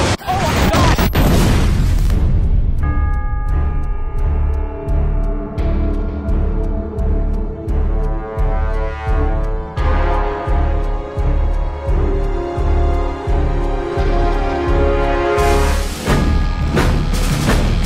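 Explosions and gunfire from a UFO attack on New York in a science-fiction film trailer, with loud booms and blasts layered over a dense orchestral score and brief dialogue throughout.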